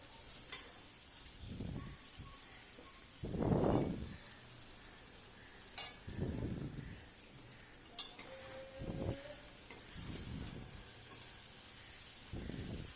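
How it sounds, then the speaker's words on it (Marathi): Cabbage and capsicum sautéed in a pan for noodles give a steady, fairly quiet sizzle and hiss, broken by a few scraping stirs and a couple of sharp metallic knocks. "तर मी परतून घेत आहे"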